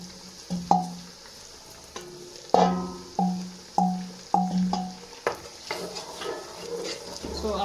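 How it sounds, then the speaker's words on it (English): Tomatoes fry on high heat in a pan for peanut soup, a soft sizzle underneath a series of sharp spoon knocks and scrapes against the pot, roughly a dozen irregular strikes. "I'm going to fry this until the tomato becomes tender"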